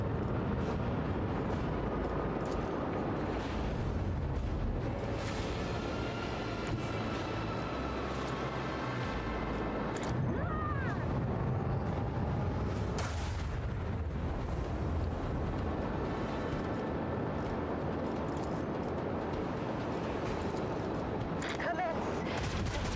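Macro cannons fire in the Warhammer 40k: Rogue Trader game in a dense barrage of deep booms and rumbling blasts that overlap across the whole stretch, with sharper cracks scattered throughout.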